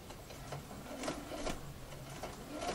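An embroidery machine stitches bias binding onto a curved seam, a fast quiet mechanical whirring with faint ticking needle pulses, steady and close, no voices.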